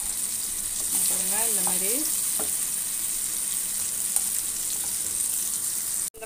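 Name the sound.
elephant foot yam slices frying and being flipped in pan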